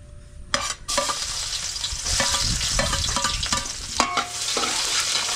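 Garlic and onion sauté in a pan for chicken puchero, a strong close sizzle with repeated metallic spatula scrapes and clanks against the pan.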